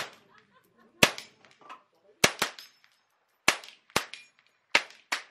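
A 1929 .22 rifle fires at long range, shooting at a balloon about 500 yards away: seven sharp, close cracks come at irregular intervals, some in quick pairs, each with a short ringing tail, with near silence between them.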